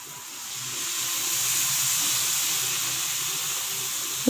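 Coconut milk poured into simmering chicken gravy in a cooking pot, giving a steady soft hiss and gentle liquid rush close by, with no talking.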